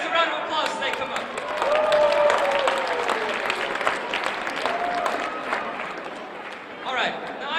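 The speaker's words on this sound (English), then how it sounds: "give these guys a round of applause as they come up" Audience applause at a leadership talk, a steady dense wash of clapping from a crowd that holds for several seconds, with voices and a shout or two mixed into the clatter.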